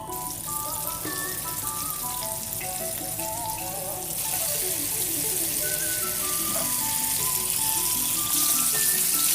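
Chicken nuggets frying in oil over a medium flame, a steady dense sizzle under a melodic tune playing throughout, the crackle brightening slightly partway through.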